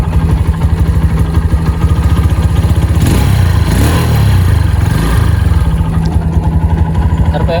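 A Honda Megapro Limited Edition motorcycle engine runs right after a single kick start, with a steady, loud, close idle thump and a brief rise in revs midway before it settles back to idling.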